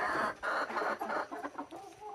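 Free-range village chickens in an enclosed coop cluck in a busy, overlapping flurry close by, short raspy calls tumbling over one another with no talking.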